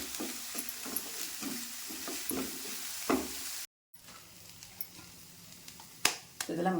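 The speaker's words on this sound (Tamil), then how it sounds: "நல்லா வதக்கிக்கணும்." Chopped onions and spring onion greens sauté in a hot pan with a steady soft sizzle and intermittent stirring scrapes, fairly close, with a brief dropout midway.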